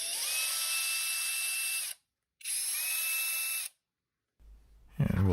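An electric drill fitted with a metal nibbler shear attachment whines loudly in two bursts of about two seconds each, pitch rising as it spins up, separated by silence, then a short clatter of handling at the end.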